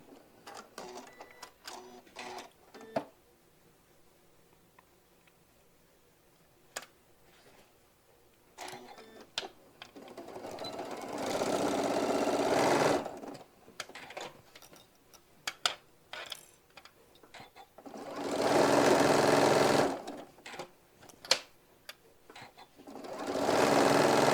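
A domestic sewing machine stitches a hobo bag in several bursts, each a fast, close mechanical whirr, with a louder sustained run near the middle and end and quiet clicks and handling between runs.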